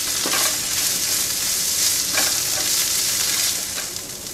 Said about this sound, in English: Cook that until the bell pepper is softened a bit.